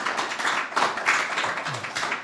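Warm audience applause at an art exhibition and book launch as a writer walks on stage, a steady dense patter of many hands, moderately loud and close, with no talk over it.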